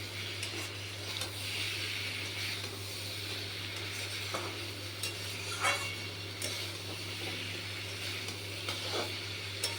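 Soybean chunks and potato sauté in a pan, a steady close sizzle with intermittent scraping and stirring clicks from a spatula, and no talking.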